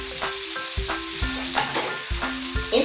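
Vegetables in a stir fry sizzle steadily in a pan, a continuous frying hiss broken by soft scraping and stirring sounds.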